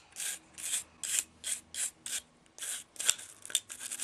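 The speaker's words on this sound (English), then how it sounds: "And I'll just take my nylon brushes to it." A nylon brush scrubs a pistol magazine in a series of rhythmic, raspy strokes, about ten close bristly swipes with brief pauses between them.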